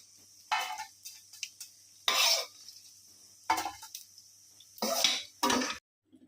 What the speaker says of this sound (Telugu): మిరపకాయలు వేసుకొని వేయించుకుందాం